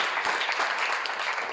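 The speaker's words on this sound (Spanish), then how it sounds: "Un aplauso de júbilo, de alabanza" Church congregation applauding in praise, a dense, steady wash of clapping from many hands that holds at an even level throughout without pause.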